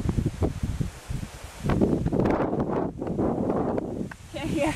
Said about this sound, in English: Wind's blowing him around like crazy.